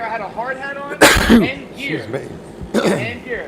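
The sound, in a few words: sneeze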